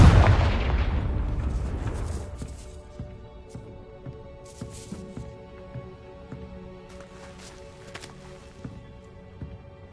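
A Confringo fire spell explodes in Hogwarts Legacy with a loud booming blast at the start that rumbles and decays over a few seconds, followed by quiet ambient game sounds with small scattered clicks and taps.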